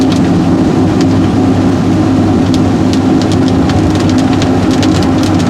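Steady rain patters loudly on the roof and windshield of an LS-swapped Porsche 944, with a low road rumble underneath throughout.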